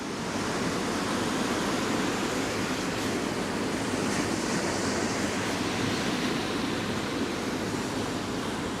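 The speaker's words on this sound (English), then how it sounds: "It was so quiet here and now it's so loud with all the waves." Continuous loud rush of waves from a passing small boat's wake sloshing and breaking nearby on the Westerschelde, a dense steady wash of water noise with no pauses.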